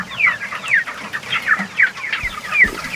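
Chickens at Polyface Farms cluck in a coop, with short repeated calls from several birds coming close and fairly loud in a steady, choppy rhythm.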